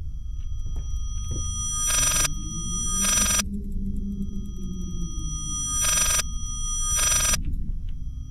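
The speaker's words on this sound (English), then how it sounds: "I can't answer the fucking phone, dude. I can't pick it up!" A telephone rings in the horror video game Layers of Fear, sounding as two pairs of bright, sharp ring bursts over a low droning rumble.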